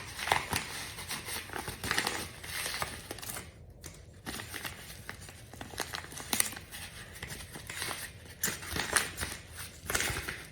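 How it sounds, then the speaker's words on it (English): A sealed plastic bag from a DNA test kit being placed into a paper return envelope: crinkling plastic and rustling paper in irregular bursts of handling, close and fairly quiet. "Place a sealed plastic bag in the return envelope."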